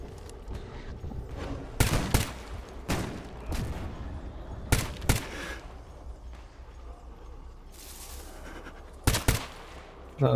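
Gunfire in Stalker GAMMA: sharp, loud shots, some in quick pairs, break out several times over a low, rumbling ambient background.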